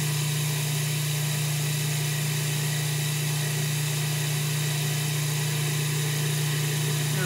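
Food processor mixing butter into bread dough, a loud, unbroken motor drone with a strong low hum that stays steady for the whole stretch, with no talking over it.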